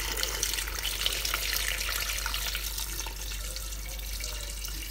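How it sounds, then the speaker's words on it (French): Water pours steadily from a tap or jug into a pot of vegetables for couscous, a continuous bright splashing rush lasting throughout, close by and without talking. "Et puis, on ajoute l'eau."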